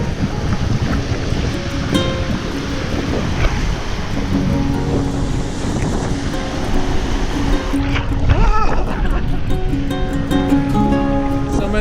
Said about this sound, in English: So many waves.